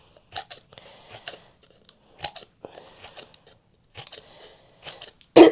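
Scissors cutting a fringe into a cardboard comb for gel printing, a series of separate crunchy snips near the mic, some louder than others, with a sharp loud cut at the end and no talking.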